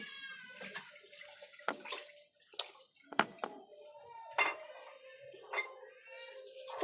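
A cat meows a few times, close by, amid splashing water and clinking dishes, with some quiet talk in the background.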